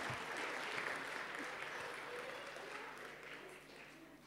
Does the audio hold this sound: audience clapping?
yes